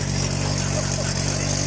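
Loud car exhaust idling at a car show, a steady, deep rumbling drone with constant low pulsing and no change in pitch, close and continuous throughout.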